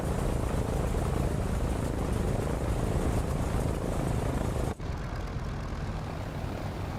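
B-25J propeller bomber engines in a flight video game, sitting on the runway before takeoff, give a loud, steady, close droning roar that briefly drops out near the end.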